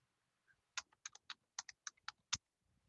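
Computer keyboard typing: about ten distinct key clicks in an irregular quick sequence, close and crisp against a quiet room, with one heavier final keystroke.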